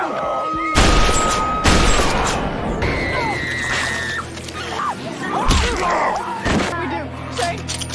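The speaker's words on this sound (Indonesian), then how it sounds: "suara tembakan pun terdengar oleh si Rick" Bursts of gunfire and loud booms amid a chaotic zombie-apocalypse action scene, with shouting voices and crashes over a dense, loud background.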